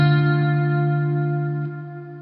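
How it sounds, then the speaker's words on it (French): A guitar chord played through a reverb pedal with built-in chorus modulation, its modulation switch set to the first position, rings out as one sustained, shimmering tone that slowly fades, with no talking. "La reverb il y a une espèce de chorus dedans qui est vraiment magnifique."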